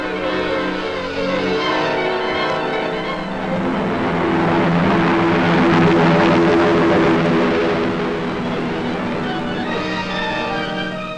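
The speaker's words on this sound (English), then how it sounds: "they board giant United States transport planes to seize an important military objective in Tunisia" Giant United States military transport planes in flight in a 1943 wartime newsreel, a steady droning engine roar that swells in the middle and stays continuous throughout, with no talking.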